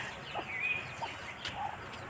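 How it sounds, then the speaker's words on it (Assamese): Several Chinese geese give short honking calls, scattered and a little distant, over a steady background hiss. "এইকেইটা আমাৰ চীনা হাঁহ।"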